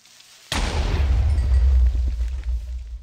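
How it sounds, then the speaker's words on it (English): Two enemies blowing up almost together in the video game Dissent, merging into one sudden loud boom that rumbles and decays over a few seconds. "They exploded at almost the same time, so they sounded like the same explosion"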